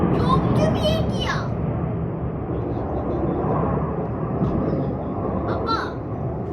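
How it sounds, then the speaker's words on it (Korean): A racing airplane flies at a Swiss Air Force air show in Grindelwald, its steady broad roar continuous throughout, with a voice and adult speech chattering over it at the start and again near the end. "아빠, 이 비행기는 경주 비행기야."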